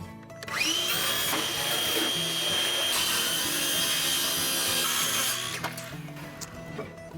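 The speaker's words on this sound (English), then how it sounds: "I'm going to cut that piece of wood in half" A piece of wood being cut in half for a simple DIY picture frame gives a sustained, whining saw cut lasting about five seconds before trailing off into a few light knocks.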